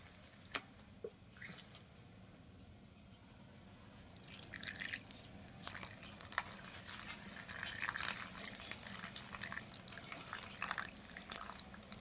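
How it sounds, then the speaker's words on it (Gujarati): Buttermilk is poured into a besan and capsicum sabji. After a few quiet seconds with scattered drips, a faint, close, wet splashing trickle sets in and continues to the end. "હવે એમાં આપણે થોડીક નાખી દેવું છાશ"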